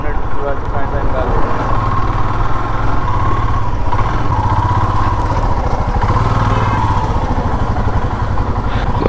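Motorcycle engine running steadily on a mountain road ride from Shimla to Jibhi in Himachal Pradesh, a close, loud, even throb throughout, with someone talking over it.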